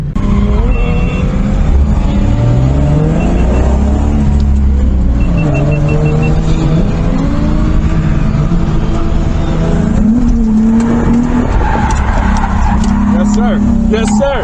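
Drifting car with a non-revup VQ35DE swapped into a revup chassis, engine revving and wavering throughout with long tire squeals and skids, loud and close, with people talking and shouting over it.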